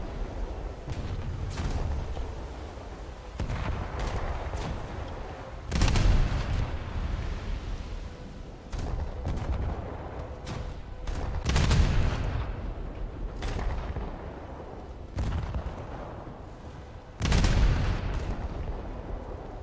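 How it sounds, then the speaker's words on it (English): Heavy naval gunfire in a warship battle game, booming salvos that come in irregular bursts every few seconds, each with a deep rumbling tail, and no talking. "Of course, the Peacock is shooting me and nothing else."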